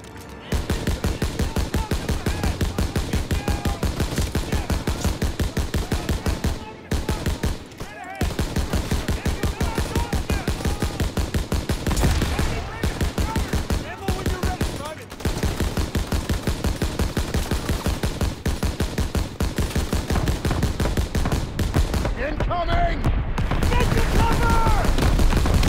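Dense, continuous rapid-fire machine-gun bursts and rifle shots in a World War II shooter game battle, loud and relentless with only momentary gaps, with soldiers' shouting mixed in.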